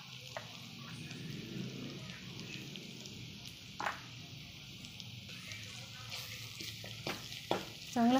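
Pav bhaji gravy with chili powder and coriander powder frying in oil gives a soft sizzle under repeated stirring and spoon scrapes, with a few sharper clinks toward the end.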